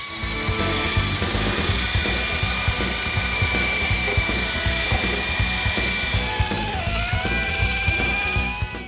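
Power buffer with Mothers polish works a Ford Ranger headlight lens, a steady high-pitched whirring hum with a rhythmic pulsing undertone as the pad turns, continuous and close throughout.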